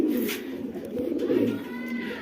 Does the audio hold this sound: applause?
no